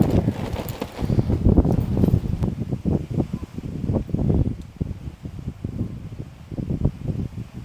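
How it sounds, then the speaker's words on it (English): Strong storm wind gusts buffet a camping tent, a steady rushing roar with flapping surges that rise and fall close to the microphone. "that wind's blowing so hard right now"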